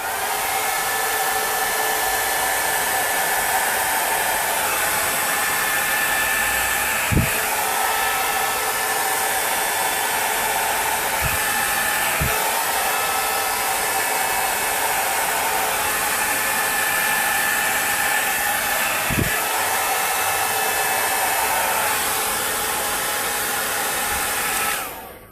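Vidal Sassoon hot air styler blowing on fringe hair, a steady loud rushing whoosh of airflow with a motor whine, continuous for the whole stretch with a few soft clicks and bumps, close up and without speech.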